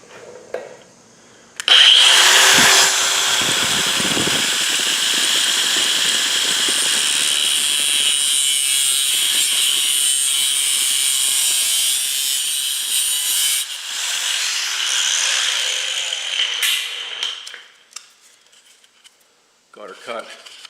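Cutting a part during a Seal Saver fork seal guard install on a Suzuki DR-Z400S motorcycle, a loud steady rasping cut running about fifteen seconds before tapering off, close to the microphone.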